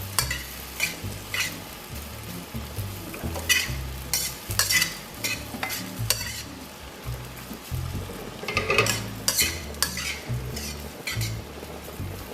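Rice and tocino stir-fried in a pan, with steady sizzling and frequent scraping, stirring clinks throughout, close and moderately loud.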